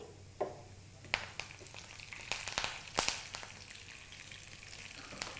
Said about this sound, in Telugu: ఆవాలు వేసిన తర్వాత ఇందులో కరివేపాకు వేసుకోవాలి